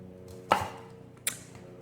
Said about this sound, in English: I'm chopping off that root section.